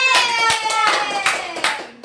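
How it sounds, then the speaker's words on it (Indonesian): A classroom of pupils claps hands together in a few loose, uneven bursts over roughly two seconds, close and fairly loud, with a voice audible in the background. "Tepuk tangan."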